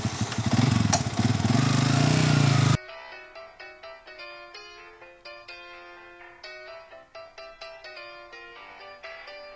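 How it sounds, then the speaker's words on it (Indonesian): A motorcycle engine roars loudly up close for about three seconds, then cuts off abruptly and a plucky electronic melody takes over. "Motor."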